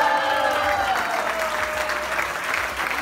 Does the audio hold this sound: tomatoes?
no